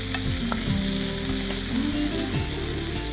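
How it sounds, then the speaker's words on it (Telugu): Soaked white cowpeas sizzling and frying in a pan for a sprouts chaat, a loud close crackle with occasional stirring scrapes and no talking. "సో ఈ అలసందల్ని ఇందులోకి వేసుకొని వేయించుకుంటున్నాం"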